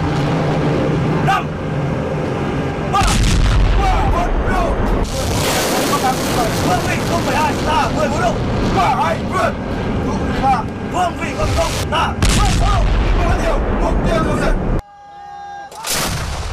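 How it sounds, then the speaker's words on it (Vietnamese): Anti-aircraft artillery and self-propelled air defence guns fire during a military air defence exercise, loud close bursts and booms in rapid, dense succession for many seconds, with a voice talking over parts and a brief quieter gap near the end. "Lưới lửa phòng không từ các đơn vị pháo cao xạ, pháo phòng không tự hành"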